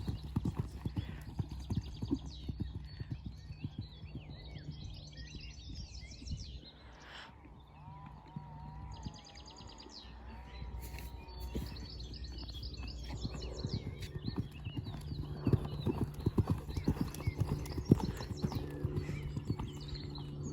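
A horse trots and canters through a jump lesson, its hoofbeats a steady rhythmic clip-clop on the ground, while birds chirp around it and an instructor calls out now and then.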